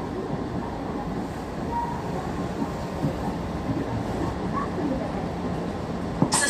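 An electric KRL commuter train on the Manggarai–Cikarang line rumbles steadily from inside the carriage, a continuous low roar with faint rattling and a station announcement heard over it.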